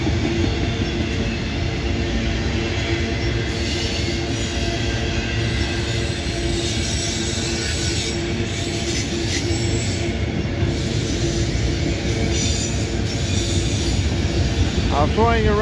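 A freight train rolling past near the bottom of a hill, its end with an orange end-of-train device going by: a loud continuous rumble of wagons and wheels with faint squeals, steady throughout.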